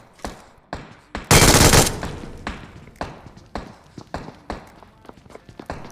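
MG3 machine gun fire in the BGMI battle royale game, a dense loud burst of automatic shots followed by scattered single gunshots and thuds in rapid, uneven succession.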